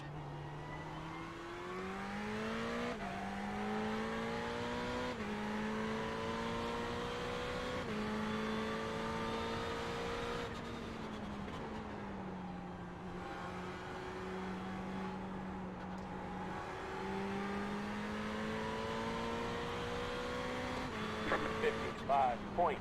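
A Ferrari 488 GT3 race car engine in iRacing at Tsukuba, droning steadily with rising pitch through the gears and dipping on lifts and downshifts, someone talking over it now and then.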